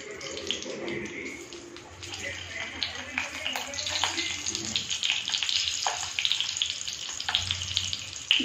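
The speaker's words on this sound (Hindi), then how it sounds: "अब इसमें अपन ऐसे मिर्ची, स्टफ करी हुई मिर्ची इसमें डाल देंगे।" Besan-stuffed green chillies dropped into hot oil for a Rajasthani bharwa mirchi dish, giving a steady hissing sizzle with bubbling crackle while someone talks over it.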